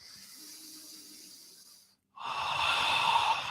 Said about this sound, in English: Big inhale. Deep exhale.